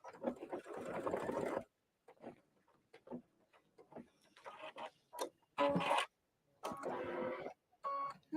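Sewing machine stitching a tote bag and gift tag, running in short separate bursts of rapid mechanical rattling with brief pauses between, close by and moderately loud.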